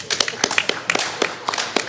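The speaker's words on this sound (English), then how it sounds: "Big round of applause." A small audience claps, giving a scattered, uneven round of hand claps at close range that sounds thin and sparse rather than full.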